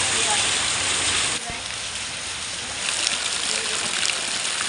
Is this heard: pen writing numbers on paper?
no